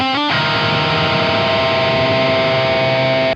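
Electric guitar run through DAW effects plugins: one heavily distorted chord struck hard, then held with a thick, buzzing, saturated sustain that rings steadily for several seconds before cutting off.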